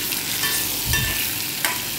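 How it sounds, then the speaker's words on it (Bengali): Chopped onion and small potato pieces sizzle and fry in a pan, a steady crackling hiss broken by a couple of stirring scrapes, with no one speaking. "পেঁয়াজের সাথে আলুটা ভাজা হয়ে যায়"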